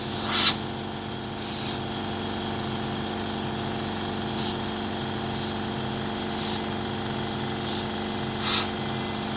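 Airbrush spraying paint from about 25 to 30 mm away, several short hissing bursts of varying length over a steady low compressor hum, close and moderately loud, no talk.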